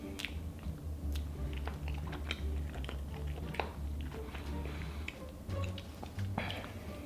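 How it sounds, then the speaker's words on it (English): A generous bite into a Cinnabon caramel cinnamon roll, then close, moist chewing with a steady run of soft squishy crunches over a low background hum. "Let's give it a generous bite."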